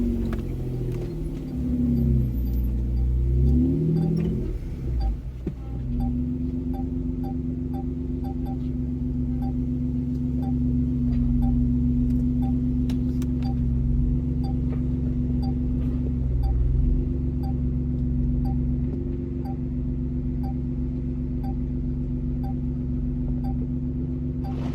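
A car cruises along a rough trail road, its engine producing a steady, loud, low rumble and hum that holds nearly unchanged from start to finish, with a few faint ticks and bumps.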